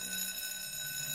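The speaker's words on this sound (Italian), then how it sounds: "Allora diamo l'allarme." An alarm rings at a cartoon fire station, a steady electronic tone with bright harmonics held without pause, loud and close.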